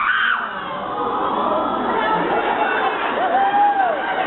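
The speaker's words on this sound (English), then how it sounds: "Somebody screamed with terror at that question" At a 2011 Supernatural fan convention in Toronto, an audience member lets out a brief high scream near the start, rising above the steady murmur and chatter of the crowd.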